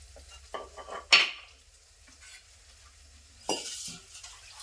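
Chopped tomatoes tumble into a pan of frying masala for a brinjal palya and get stirred in: a sharp clatter near the start, soft scraping, then a second burst of stirring with a faint sizzle.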